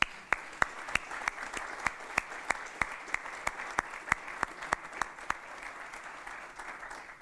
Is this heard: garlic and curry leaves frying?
no